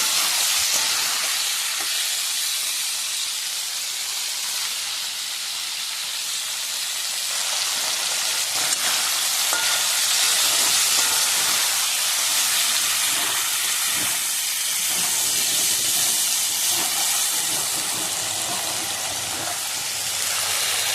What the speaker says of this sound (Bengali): মাংসটাকে একটুখানি নুন হলুদ দিয়ে ভেজে নেব।